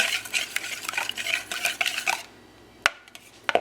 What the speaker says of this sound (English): And now I'm going to whisk the eggs first before I add my other 2 wet ingredients